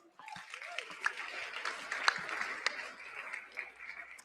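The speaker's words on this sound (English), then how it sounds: "give Alex a hand too as well." Audience applause at an event, scattered clapping with a few sharp claps standing out, fairly faint and sustained for several seconds, with faint voices murmuring underneath.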